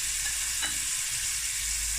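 Chopped onion hits hot fat in a frying pan where meat has browned, giving a steady close hiss and sizzle for a couple of seconds with no talking.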